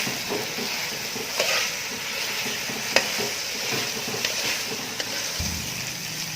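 Meat for aloo gosht frying in ghee in a pot, a steady close sizzle with occasional stirring scrapes and small pops, no talking.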